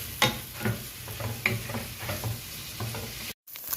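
Ground meat sautéing in a pan for Filipino sweet spaghetti, with a soft steady sizzle and scattered scraping stirs, close and moderately quiet, no talking.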